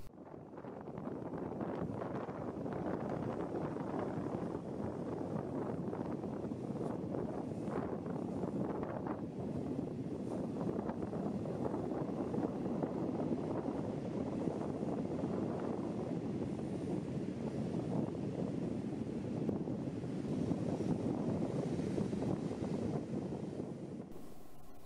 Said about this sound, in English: So, conditions are not as good as I would have liked. Quite windy, quite cold.